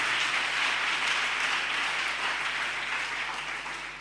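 A church congregation applauds in praise of the Lord, a dense, loud, continuous wash of clapping from many hands that fades slightly toward the end.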